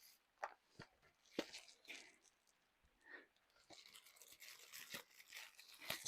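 Packaged spare socks are unwrapped with faint, close crinkling and tearing of plastic, coming in scattered bursts that thicken toward the end, with no talk.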